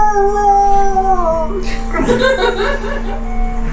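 A dog howls loudly and close by in a long, wavering tone, and a voice laughs and speaks over the end of the howl.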